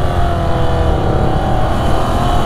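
Ducati Scrambler Icon motorcycle engine droning steadily while being ridden, a continuous loud rumble with wind noise and no break throughout.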